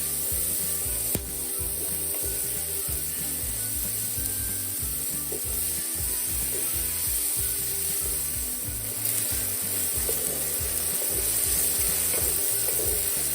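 Meat stirred in a hot pan while cooking a spicy soy vinegar eggplant dish: a steady, continuous sizzle of frying with repeated scraping and stirring strokes, close and even throughout, no talking.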